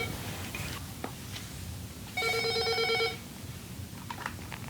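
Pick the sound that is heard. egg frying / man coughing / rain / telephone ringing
telephone ringing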